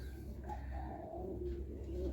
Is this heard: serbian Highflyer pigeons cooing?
yes